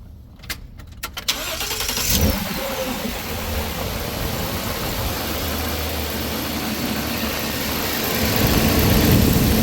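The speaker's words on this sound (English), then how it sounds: "Let me start it up so you can actually see it." A 2013 Ford F-350 pickup with a 5.4L engine and a heavy oil leak cranks briefly, catches and settles into a steady idle, then the engine note rises slightly near the end.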